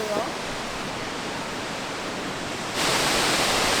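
Steady roaring rush of a waterfall in the Black Forest, close and loud, the broadband wash filling the whole clip and swelling brighter near the end as the roar comes nearer.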